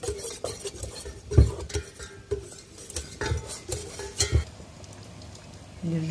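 A utensil stirs batter made with cornstarch and flour in a bowl, making uneven close scraping and knocking strokes with a few louder clinks and soft background noise.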